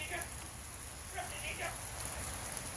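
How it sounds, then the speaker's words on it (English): Sleet falling outside during a winter storm, a faint, continuous pattering hiss of tiny ice pellets, with a few quiet voice-like sounds in the background. "Sleet. Though sleet, if you can hear it, is ice."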